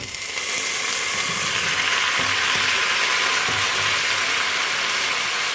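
Tomatoes going into a hot pan for penne alla toscana, giving a loud, steady, bright sizzle that starts almost at once and holds evenly throughout, with no talking.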